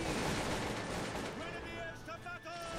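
Musket volleys crackle and roar from a Cossacks 2 squad in battle, a dense continuous wall of distant gunfire and rumble with faint battlefield noise on top.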